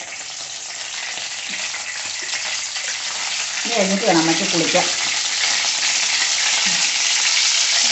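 Mustard seeds spluttering in hot oil for a home-style ash gourd thoran, giving a continuous crackling sizzle that swells midway with a short burst of sharper pops, while people talk over it.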